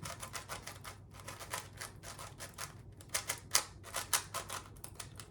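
A Diansheng prototype FTO twisty puzzle with strong magnets is turned fast, giving a close run of crisp clicks and clacks in an uneven rhythm that gets denser and louder toward the end. No one speaks.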